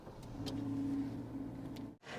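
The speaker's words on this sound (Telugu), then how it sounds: "ఇంజిన్ నాయిస్ అనేది క్యాబిన్లోకి వస్తుందో లేదో ఒకసారి అయితే చెక్ చేద్దాం న్యూట్రల్లో ఉంది కారు" Maruti Suzuki WagonR engine idling in neutral, heard from inside the cabin: a steady, muted low hum with a faint constant tone, running evenly before a brief dropout near the end.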